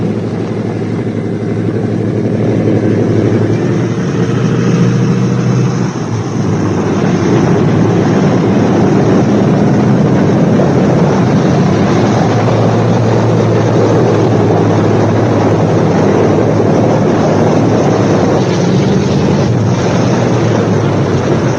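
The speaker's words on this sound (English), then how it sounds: "Don't turn off the ignition until the engines have stopped turning over." Engines of a Boeing B-17 Flying Fortress bomber run with a steady, loud, broadband droning roar, uninterrupted and without talk.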